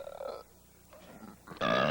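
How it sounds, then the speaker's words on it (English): A short, low burp rumbling up from deep in the belly, then a louder, brassier belch at the end, close by and alone. "The deep belly burp."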